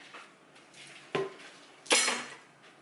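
A toddler stirring a mixture of butter in a bowl with a whisk, giving quiet scraping and two sharp clinks of utensil against the dish in a home kitchen.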